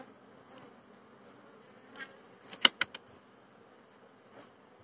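Honeybees buzz faintly and steadily inside an opened multi-storey hive with the inner cloth cover lifted in warm weather, broken by a few sharp close clicks partway through.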